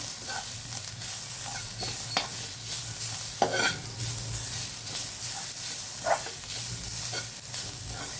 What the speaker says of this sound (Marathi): त्यात आपण हे मिरची आणि लसूण वाटलेलं टाकूया आणि ते देखील परतू परतू घ्यायचं